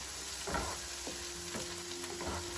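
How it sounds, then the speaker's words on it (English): Chopped onion frying in a pan for Afghan qorme kofta meatball sauce, giving a steady close sizzle with a few soft stirring scrapes and no voices. "the onion has been cooking for about 5 minutes"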